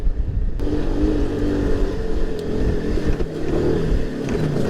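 Off-road vehicle doing a donut on a trail, its engine revving loud and continuous with a rough, wavering roar close up, no talking over it.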